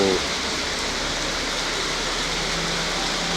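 Heavy rain pours steadily on a surface with a dense, even hiss that holds at the same loudness throughout; no voice or other sound is heard.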